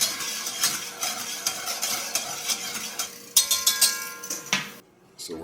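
Pot roast cooking liquid bubbling and reducing in a pot while a utensil stirs and scrapes against it, with a soft sizzle under repeated clinks and a brief lull near the end.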